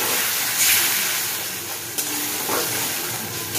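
Water poured into a hot cooking pan, giving a loud, continuous broadband hiss and sizzle that holds steady close up, with a brief knock partway through.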